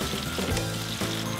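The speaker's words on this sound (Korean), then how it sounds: "이제 인삼에 튀김옷을 입혀 튀겨내기만 하면 되는데요" Battered ginseng deep-frying in hot oil for a Geumsan snack, a steady dense sizzle and bubbling throughout, close and fairly loud with no voices.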